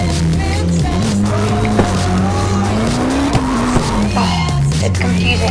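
Continuous engine roar and tire skidding from a car drifting in the CarX racing video game, the engine pitch rising and falling as squeals and scrubbing noises come and go.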